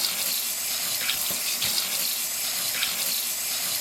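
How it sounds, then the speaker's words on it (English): Tap water runs steadily from a faucet into a sink while pickles are rinsed, a continuous close hiss and splash with small bumps of handling and no talking. "we will gently pick them up and wash them off real good"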